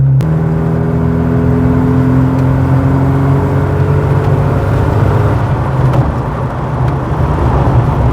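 A modified Volvo 240 with a lowered stance drones loudly and steadily while driving, its engine holding a deep, rumbling tone with faint pitch shifts as it gathers pace gently.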